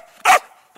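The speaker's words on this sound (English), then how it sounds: "In case you guys don't know what dog talk means, that means play with me" A pitbull gives two sharp, close barks a fraction of a second apart, wanting to play, loud against an otherwise quiet room.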